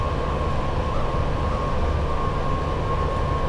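Class 87 electric locomotive working a Freightliner service on the West Coast Main Line in Train Sim World 6, a constant heavy rolling drone with a faint steady whine, loud and unbroken throughout, with no talking.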